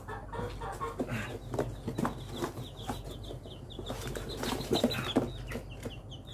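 Four imported chickens, two roosters and two hens, cluck repeatedly and rustle in a cage at close range, with brief wing flaps and irregular overlapping calls.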